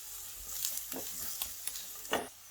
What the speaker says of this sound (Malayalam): ഇനി ഇതിലേക്ക് സവാള ഇട്ട് കൊടുക്കാം.